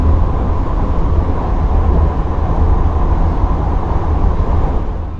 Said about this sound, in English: Took 6 minutes for the train.